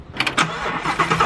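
A Ford Mustang GT350 cranks and fires up in a quick burst, the starter churning into a short rising catch of the engine, close by with no talk.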